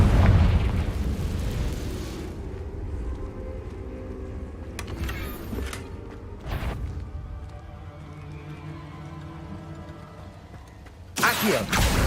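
Confringo fire spell explosions in the game Hogwarts Legacy: a loud boom at the start decaying into a rumbling tail, a couple of sharp bursts in the middle, and another strong blast near the end.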